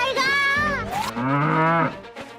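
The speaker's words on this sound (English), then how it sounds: "The cow turns into a zombie." A cow, shown turning into a zombie on a farm, lets out two loud, close drawn-out moos in quick succession, the second longer and lower, with no talk over them.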